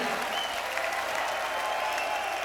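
A concert crowd in Düsseldorf applauds and cheers, dense sustained clapping and shouting that fills the hall without a break.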